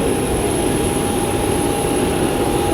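Loud, steady roar of a passenger airplane's jet engines heard near an airport, a continuous engine drone with a high whine.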